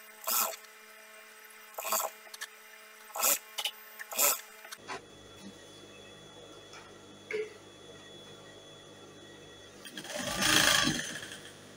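Sewing machine stitching a batwing dress with elastic, running in several short bursts up close, then a longer whirring run after a pause; a voice speaks in between.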